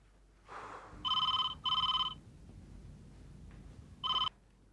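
A telephone rings in three distinct bursts of a bright electronic bell tone, the first two back to back and the third after a pause, fairly clear against a quiet room in a Hindi TV drama scene.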